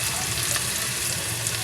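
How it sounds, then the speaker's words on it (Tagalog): Garlic and onion sizzle steadily in a hot pan as they are sautéed for ginisang sayote, a continuous close frying hiss with faint stirring throughout. "hagisa na natin yung ating bawang at sibuyas"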